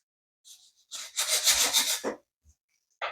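Sandpaper of 220 grit rubbing a rough painted edge, a few short close scratchy strokes with one longer rasping pass, with brief quiet gaps between.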